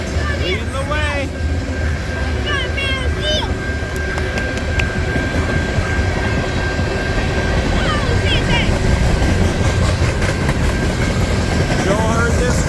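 A BNSF-led freight train passes at night in Milltown, Indiana, with a loud continuous rumble of rolling steel cars, squealing wheel flanges and rhythmic clatter, and a voice speaks briefly over it.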